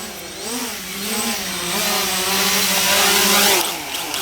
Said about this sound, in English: I've dropped throttle, but the motors stay on.